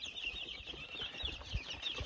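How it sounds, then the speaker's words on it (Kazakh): Roughly 180 young chicks in a brooder peep and cheep constantly in a dense chorus of high chirps. A few soft rustles and shuffles sound close by, and nobody speaks. "Қазір мына жерде жобамен 180 дей балапан бар."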